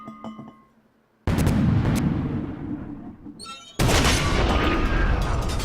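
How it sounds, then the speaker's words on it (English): Two heavy artillery blasts in the Toy Soldiers video game's British campaign, each a sudden loud boom followed by a long rumbling, crackling decay, the second landing a few seconds after the first. "the horse just went flying because of the artillery explosion"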